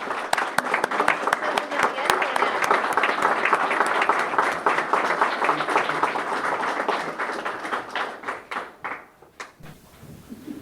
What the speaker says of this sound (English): Please give a round of applause to Lizzie Radcliffe.